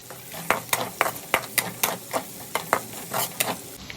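Spices sizzle in hot oil for Kerala chicken roast while a spoon stirs and scrapes the pan in quick repeated strokes, close and fairly quiet, with no voices.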